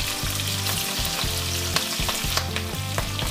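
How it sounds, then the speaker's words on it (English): Green beans frying in a pan for a garlic stir fry, a close, constant sizzle with crackling bursts and a few stirring scrapes, no voices. "Add the beans and fry for 2-3 minutes."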